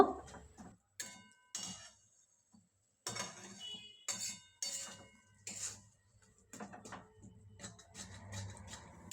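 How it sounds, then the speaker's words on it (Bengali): A metal spatula presses and scrapes a coconut and jaggery mixture in a pan, making scattered faint clinks and taps in short bursts with quiet gaps between them. "বন্ধুরা এভাবে খুন্তির সাহায্যে আমি একটু দাবিয়ে দাবিয়ে নেব"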